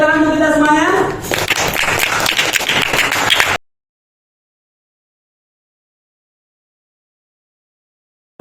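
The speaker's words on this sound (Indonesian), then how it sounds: "tepuk tangan untuk kita semuanya" Applause and clapping from a classroom audience, a dense, steady patter of many hands lasting a few seconds after a voice at the start, then cutting off abruptly into silence.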